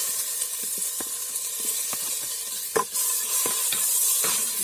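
Tomatoes dropped into a pan for a Tulu-style tangy fish curry sizzle and fry steadily with close, continuous hiss, broken by occasional stirring scrapes and a brief louder clatter near the middle.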